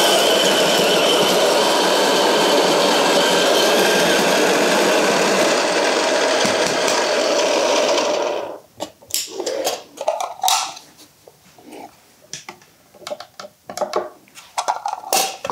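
An electric coffee grinder grinds a dose of beans at a tasting event, a loud steady whir for about eight seconds that cuts off abruptly, followed by scattered knocks and taps.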